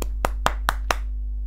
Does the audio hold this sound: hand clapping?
yes